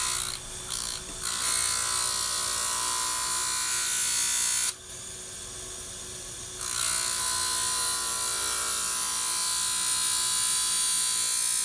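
Bosch-style 120-grit sanding disc on a power tool sharpening a knife blade, a loud continuous high whine with a brief dip where the blade lifts off, otherwise steady and close with no talk.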